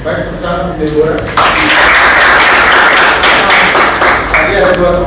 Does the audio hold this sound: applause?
yes